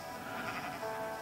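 A single sheep bleat in Minecraft, a wavering nasal cry that lasts about a second, fairly quiet and heard alone.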